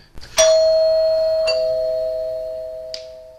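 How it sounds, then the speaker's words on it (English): Doorbell at a house ringing with a bright electronic ding followed by a second softer tone, each ringing out and decaying slowly, clear and close in a quiet room. "And I hear the doorbell ring."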